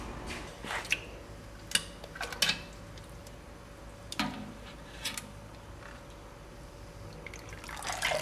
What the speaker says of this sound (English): I'm now going to take the grain bag out and sparge them a little bit to try to get some more of the sugars out of the flaked oats.